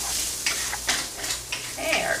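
Bacon for spaghetti carbonara frying in a pan, a steady close sizzle with brief stirring scrapes, and no talking.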